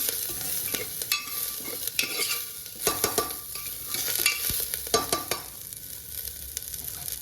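Curry leaves and coriander sautéed over low heat in a pan for moong dal khichdi, a continuous sizzle broken by repeated scraping stirs of a spoon, close and fairly loud, no talking.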